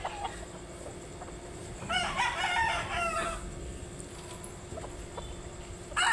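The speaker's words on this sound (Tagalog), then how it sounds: "Yan yung mga manok namin dito banda yung mga kinokondisyon" Conditioned fighting roosters at a gamefowl farm crow in clear, mid-distance calls, with one long crow and another starting at the end, over steady background ambience and a few faint clucks.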